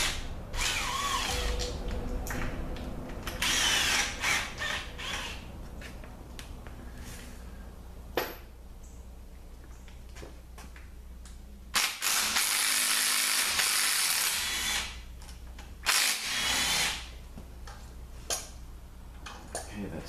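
Ratchet clicks and wrench work on bolts from a 722.9 4Matic transmission being torn down, with bursts of ratcheting and metallic clanks close up, mixed with clattering handling noise.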